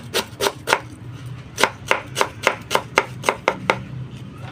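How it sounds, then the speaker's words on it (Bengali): A knife julienne-cutting cabbage for spring rolls on a cutting board: about a dozen crisp, close chops in an uneven rhythm, loud and clear with no talking. "ক্যাবেজকে জুলিয়ান কাটিং কাটতে হবে"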